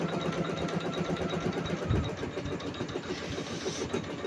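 A sewing machine stitches a towel late at night with a fast, continuous mechanical whir and needle chatter, steady and close.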